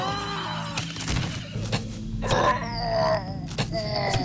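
Horses whinnying in the fantasy strategy game Eador: Genesis, several wavering high neighs rising and falling over the game's battle noise and thuds.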